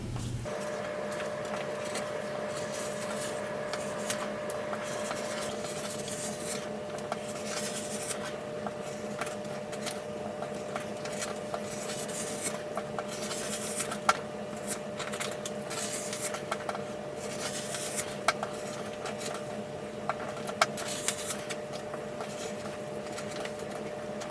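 Scissors cut paper flags for a Halloween banner, a quiet, steady rasp of small snips and rustles over a faint background hum, with no talk.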